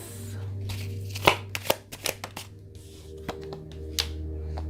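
Tarot cards being shuffled and pulled by hand, a series of sharp close snaps and riffling flicks spaced irregularly over a low background hum.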